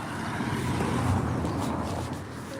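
A car passes along a road on a morning dog walk, its broad engine and tire rumble holding steady and fairly close through the whole stretch, with no voices over it.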